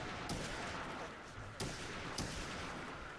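Gunfire from the Call of Duty zombies map Call of the Dead, a dense, continuous rattle of in-game shots with a few sharper cracks, heard at moderate level without talk.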